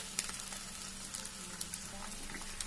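Fried rice ingredients sizzling quietly in a pan, a soft continuous hiss dotted with small pops and crackles.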